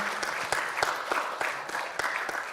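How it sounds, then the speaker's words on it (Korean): Audience at an anniversary thanksgiving service claps together in a short burst of applause, the individual claps fairly distinct and rhythmic over a low room murmur. "여러분 큰 박수 부탁드립니다."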